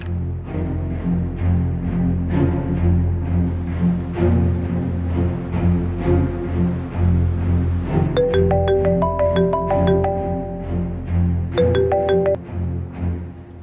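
A phone ringtone plays a bright melodic chime pattern twice over a steady background hum in an indoor drama scene, clear and close, with no talk.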